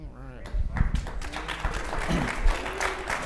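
During a heated live debate, scattered audience clapping and crowd noise rise under overlapping speech, a few sharp claps standing out near the middle.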